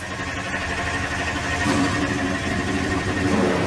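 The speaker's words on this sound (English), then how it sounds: "Drivers, start your engines." Stock car engines in the NASCAR Racing 2003 game at Homestead Miami Speedway fire up and settle into a steady, loud, rumbling idle that swells slightly partway through, with no talking.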